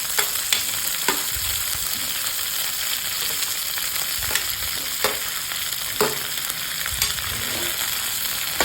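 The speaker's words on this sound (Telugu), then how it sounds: "ఇది కొంచెం వేగిన తర్వాత మనం టమోటా వేసుకోవాలి." A pan sizzles steadily at close range in a Rayalaseema home kitchen, with faint stirring clicks scattered throughout and no talking.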